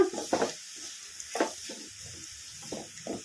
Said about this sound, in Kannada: ಈಗ ಲೋ ಫ್ಲೇಮಲ್ಲಿ ಒಂದೆರಡು ನಿಮಿಷ ಈ ಥರ ಕಲಸ್ಕೊಂಬಿಡೋಣ